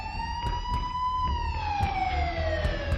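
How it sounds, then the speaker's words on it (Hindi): Wailing emergency siren outside a house, a single smooth tone rising and then slowly falling, steady and moderately loud, with faint background rumble and occasional clicks. "हमारे घर के बाहर पुलिस और एम्बुलेंस की सायरन बजने लगे।"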